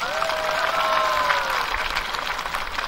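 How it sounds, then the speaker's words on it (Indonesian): Applause for the santri at a Hari Santri ceremony in Cilacap, steady crowd clapping that stays even and moderately loud, with a high whistle-like tone sweeping through early on. "Tepuk tangan untuk para santri."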